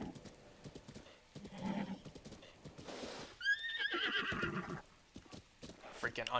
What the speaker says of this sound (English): Freaking untamed horse.